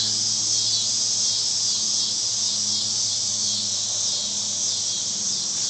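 A dense, steady chorus of insects, likely cicadas or crickets, on a hot day outdoors: a loud, continuous high shrill drone that never pauses, with no talking.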